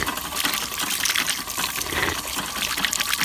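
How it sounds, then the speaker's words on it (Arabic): Water gushes steadily and noisily out of a water attraction outdoors in Agadir, a continuous close splashing rush with no talk. "شوفوا كيفاش يخرج الماء الى تشارجيها تشارجيها باش يخرج الماء"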